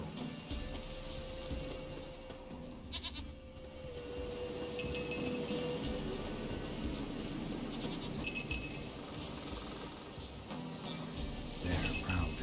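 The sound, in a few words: bell ringing in the video game The Witcher 3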